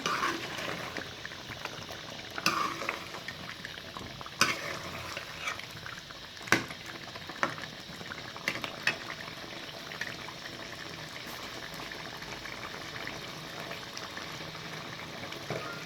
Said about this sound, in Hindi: अब हम आलू को भी अच्छी तरीके से भून लेंगे।